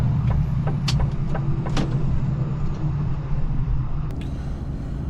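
Slow, heavy Friday rush-hour traffic on the M25 motorway rumbles in a steady broadband drone of cars, trucks and buses, with a few brief knocks and clicks close by and no talking.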